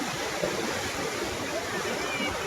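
Sea waves washing in at Chennai beach, a steady broad roar of surf and rushing water heard close, with no distinct breaks.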